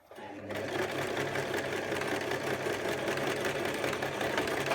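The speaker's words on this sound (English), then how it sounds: "I'm going to do a little bit of back tacking." A sewing machine back tacks a skirt seam in a steady, continuous mechanical whir at close range, running without pause after a quiet start.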